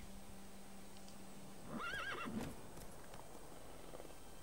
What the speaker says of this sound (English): Luckily, Gerald can always count on his horse, Roach, to help him in his travels.